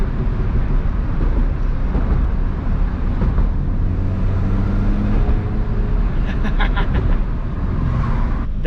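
A supercharged 2005 Mini Cooper S John Cooper Works engine accelerates hard, a loud continuous roar with rising engine tone heard from inside the car, without talk.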